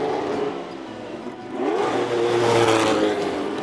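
A Ferrari with a 12-cylinder engine accelerates, its engine note rising in a smooth sweep and swelling louder toward the end of the stretch.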